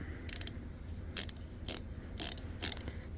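A Klein ratcheting ball-grip screwdriver set to tighten drives a screw straight in with no pilot hole, giving a series of crisp ratchet clicks in about six close, evenly spaced bursts over a low steady background.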